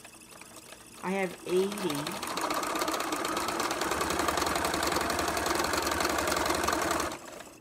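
A sewing machine runs in one steady, loud continuous stitching stretch of about six seconds, right after a brief spoken phrase, then stops abruptly.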